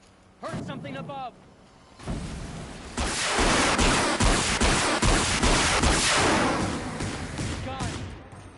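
Gunfire and blasts in the action game Horizon Zero Dawn, a dense run of loud cracks and booms filling most of the clip after a brief burst of voices and quieter moments at the start.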